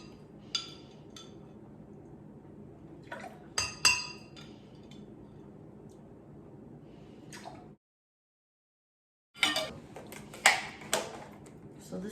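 Lemon juice measured by the tablespoon into a bowl brings scattered clinks of a metal spoon on glass and faint drips, a brief silent gap, then another burst of clinks, near and fairly quiet.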